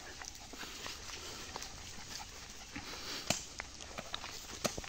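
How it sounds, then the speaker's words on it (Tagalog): Pet dogs barking on a small rural farm in Bicol, Philippines, heard as scattered sharp barks at a moderate distance over steady outdoor ambience with occasional footsteps. "meron tayo alagang mga aso dito. Ayan, mukhang tinatahol ako"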